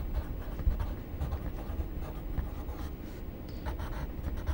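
A pen scratches across paper while given data is written out for an engineering drawing problem. The strokes are soft and continuous, close up and quiet, with no talking.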